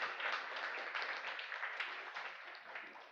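A church congregation applauds, a continuous patter of claps that stays fairly even and gradually fades over a few seconds.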